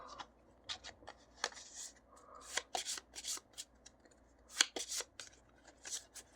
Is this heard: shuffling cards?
yes